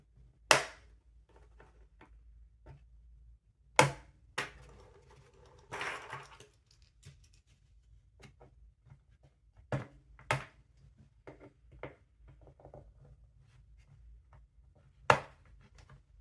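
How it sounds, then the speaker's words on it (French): A small flat-blade screwdriver prying open the plastic cover of a Formovie Fengmi S5 projector: sparse sharp clicks and snaps with brief scraping between them, close and isolated against near-silence. "On met un petit tournevis à lame plate entre le tissu et le capot et on fait levier"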